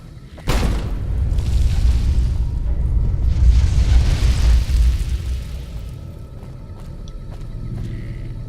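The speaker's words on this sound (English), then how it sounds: "I can throw the grenade this way" A grenade goes off in Fallout: New Vegas: after a quiet moment a sudden heavy boom hits, followed by a long, deep rumbling roar that slowly fades over several seconds.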